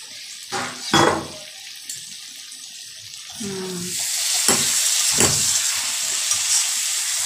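Bengali spice paste sizzling in oil for a shol (snakehead) fish curry, a steady frying hiss that grows louder in the second half, with a few sharp stirring scrapes and clatters near the pan.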